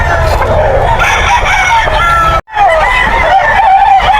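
Young roosters (stags) crow loudly and repeatedly at a busy pet market, their calls rising over clucking fowl and a steady crowd babble, with a brief dropout midway.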